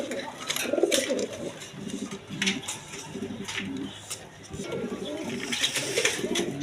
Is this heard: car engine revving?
no